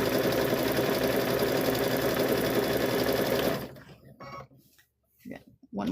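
A sewing machine stitching a hummingbird and butterfly quilt block hums in a steady, close mechanical whir for several seconds, then stops, and a voice talks briefly afterward.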